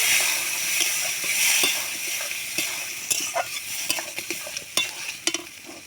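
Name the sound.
dal added to fried tadka masala, sizzling and stirring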